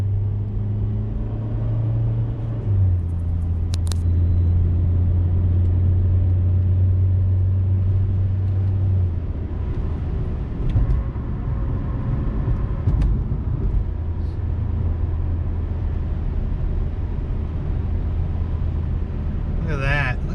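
A car engine idles steadily while warming up after a crankshaft position sensor repair, giving a low continuous rumble with slight shifts in pitch and brief soft clicks, heard close and loud throughout.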